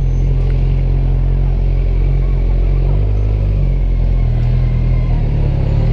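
Motorcycle riding through a road traffic jam, a loud, continuous low rumble of engines and surrounding vehicles heard close up with no break.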